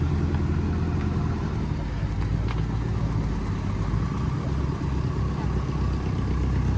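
A Lotus car rolling out at a classic car and bike breakfast show, its engine a low steady rumble with slight throttle swells, nearby over a faint murmur of outdoor crowd background.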